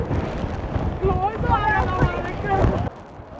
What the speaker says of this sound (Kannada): ಎಷ್ಟೋ ಗಾಳಿ.